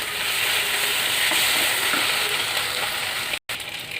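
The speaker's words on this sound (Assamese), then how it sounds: "এতিয়া সৰিয়হটো একেবাৰে খুব সুন্দৰকৈ ভাজা হৈ গ'ল। চাওক, বিলাহী চব ভাজি হৈ গ'ল।" Mustard seeds and tomatoes frying in hot oil with a little sugar, a steady loud sizzle and crackle close up that runs throughout, broken by one brief cut near the end.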